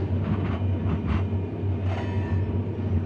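Train rolling slowly through the Sahara, a steady low rumble with soft rattles and occasional clacks of the wagons, continuous and moderately loud.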